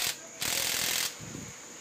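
An impact wrench tightens a loose part on the left side of a Supra motorcycle with worn bearings, giving one loud, close whirring burst of under a second, followed by quieter mechanical rattling.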